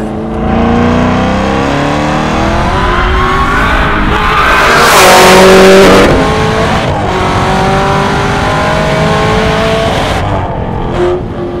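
A 1200 HP Hennessey Camaro ZL1 1LE engine revs hard at full throttle, rising in pitch through the gears, with a brief tire squeal as the tires slip near the middle; loud and close, no talking.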